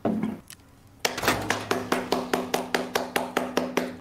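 Steady hand clapping during an Escape from Tarkov session, with about a dozen evenly spaced claps coming close and clear after a quieter opening, and faint background sound beneath.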